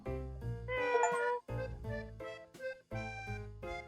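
A cartoon cat meows repeatedly in Cats Hidden in Paris: several loud, close, drawn-out tonal mews in a row, with short pauses between them and no talking.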